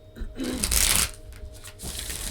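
A deck of tarot cards is riffled close up, one brisk crisp burst followed by softer shuffling.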